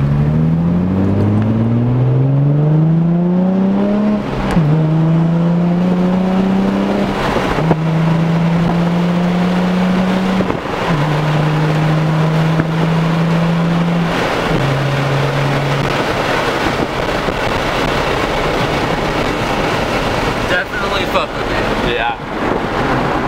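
A car with a single exit exhaust revs and pulls away through several rising gear changes, the engine note climbing and dropping with each shift before fading into wind and road noise.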